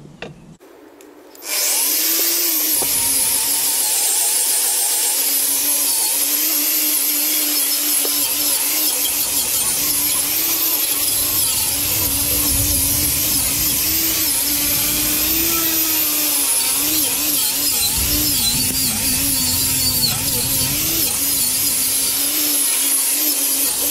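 Angle grinder fitted with abrasive discs working on barn-find metal at a village forge, spinning up after a short quiet start and then running loud and continuous with a steady high whine and harsh grinding hiss.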